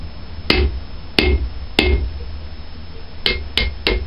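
A hammer bangs the parts of a diagonal hot set together: six sharp, ringing metal strikes, three evenly spaced and then three in quicker succession, loud and close with no talking.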